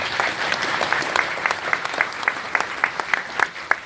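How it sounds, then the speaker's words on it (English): An audience at a city's State of the City address gives a round of applause for a state representative, loud continuous clapping with individual claps popping out near the microphone. "Let's give him a round of applause."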